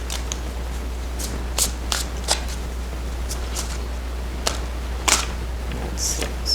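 Tarot cards being shuffled and drawn during a full moon reading, close, soft riffles and sharp card snaps scattered irregularly over a low steady hum.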